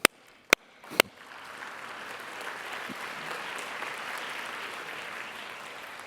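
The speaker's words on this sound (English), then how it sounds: "Give him a loud applause." Conference audience at a university honorary doctorate ceremony breaking into steady applause after a few sharp individual claps, a broad sustained roar of many hands filling the hall.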